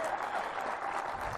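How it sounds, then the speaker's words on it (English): Big outdoor crowd applauding steadily at a strongman competition held at Crumlin Road Jail, a dense continuous clatter of clapping with no clear gaps. "Big crowd here at Crumlin Road Jail"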